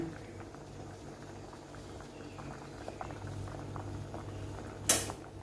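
Mung beans simmering with sugar in a pot give off a soft, steady bubbling at a low level, with a few faint knocks, and a sharp clatter near the end.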